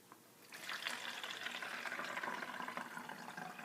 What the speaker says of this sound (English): the last ingredient is the water. I use purified water or distilled because it's better. And then basically you just fill it up.